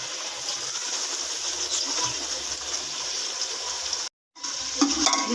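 Onions frying in oil in a pot for a layered biryani, with a steady broadband sizzle and faint stirring scrapes, broken by a brief silent gap near the end before the frying resumes a little louder.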